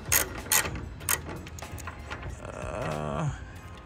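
A ratchet works a bolt loose on a carbon hood fitted to a BMW E90: a few sharp, close clicks early on, followed by a softer mechanical whir, with no voices.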